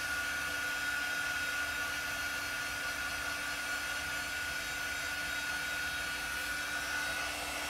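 A hair dryer runs steadily at close range to dry chalk paint on a craft piece, a loud, constant blowing whoosh with a faint whine that holds without a break throughout.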